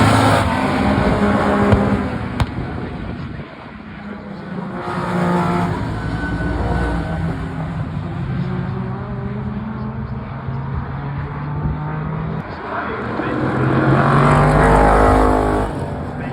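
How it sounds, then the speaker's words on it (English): A blue Ford Escort and an orange BMW race past at speed, engines roaring and swelling, fading and returning as the cars pass, with a commentator talking over the noise. "you see the blue Escort down the inside of the orange BMW"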